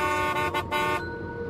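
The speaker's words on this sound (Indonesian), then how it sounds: "Katanya kalau lewat atau mutar di bundaran itu, kita harus membunyikan klakson" Car horn sounding at a roundabout, a sustained loud toot lasting about a second, steady and harmonic, then fading into quieter traffic background.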